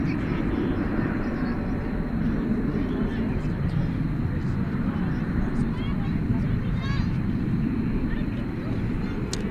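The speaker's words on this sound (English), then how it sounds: "This is an Airbus A321." Airbus A321 jet at DFW Airport at night, a steady broadband engine roar filling the whole stretch at moderate distance, with faint voices talking underneath.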